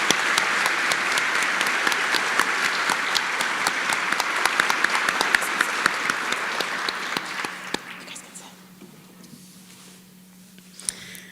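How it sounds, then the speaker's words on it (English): Sustained audience applause at a high school National Honor Society induction ceremony, dense and steady clapping from a large crowd that thins out and fades to near quiet over the last few seconds. "Please let us give them a round of applause for their efforts, hard work, and commitment to helping others."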